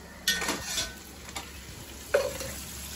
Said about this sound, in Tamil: இந்த ஸ்டேஜில் வெங்காயம் நல்லா வதங்கிடுச்சு